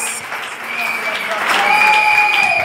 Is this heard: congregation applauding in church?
yes